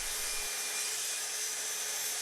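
A half sheet of 18mm MDF is cut down with a saw, giving a short, steady, bright rasping hiss that is quiet and even, with no talking.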